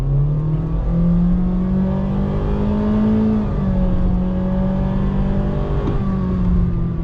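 A 2023 Honda HR-V Sport's engine drones steadily from inside the cabin, a loud, close, continuous hum whose pitch rises gently then eases over about seven seconds, with no talking over it.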